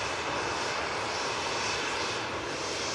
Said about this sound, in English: It's the Aer Lingus ATR 72 coming in from Dublin.